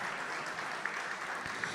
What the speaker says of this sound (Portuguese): Deise é também executiva do Observatório Social do Brasil do Estado de Santa Catarina e recebe os nossos aplausos.